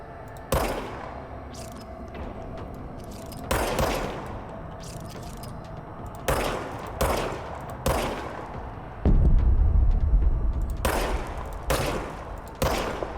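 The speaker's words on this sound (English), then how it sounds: "Now I have a gun. Got it. We can shoot it." Gunfire from the player's gun in the video game Control: about nine sharp single shots spread irregularly over thirteen seconds, each a loud broadband crack with a short tail, over a steady low game ambience.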